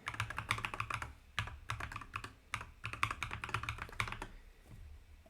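Bursts of fast typing on a computer keyboard, close and quiet, with clustered keystrokes separated by short pauses.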